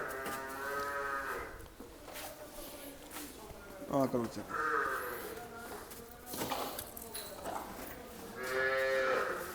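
Several loud, drawn-out buffalo moos sound nearby, one after another, while people talk over and between the calls.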